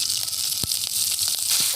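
Steady hot-oil sizzle of green chilies and fennel seeds frying, with a crackling, hissing texture and a few sharper pops, close and continuous.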